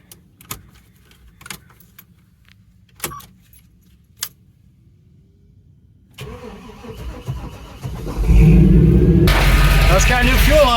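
Keys jangle in sharp bursts, then a 1987 Blazer with a suspected fuel fault cranks and catches, its engine running rough and loud near the end, with someone talking over it.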